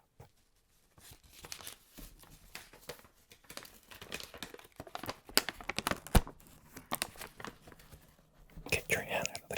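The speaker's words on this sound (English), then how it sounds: "I could tear it up and see what it sounds like on this microphone" Close-up crinkling and ripping of a thin plastic bag being torn up, irregular bursts of rustling and tearing that grow louder toward the end.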